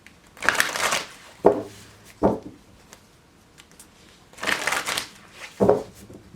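Angel and Ancestors oracle cards are shuffled close by in several distinct bursts, each a crisp riffling rush of card stock, separated by brief quiet pauses.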